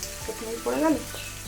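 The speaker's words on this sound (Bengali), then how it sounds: "চিকেনটা ভাজা হতে হতে" Chicken pieces frying in a pan while making butter chicken, giving a steady close sizzle with brief stirring scrapes and a swell of louder crackle midway.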